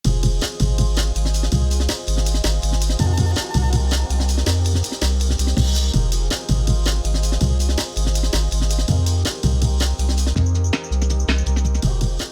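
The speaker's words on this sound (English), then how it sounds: "it's just the Amen break without the Think break. So it's the Amen break, 808 bass line" A fast, chopped Amen breakbeat drum loop drives over deep, sustained 808 sub-bass notes in a jungle track, with a steady dense rhythm throughout and a bright pad entering near the end.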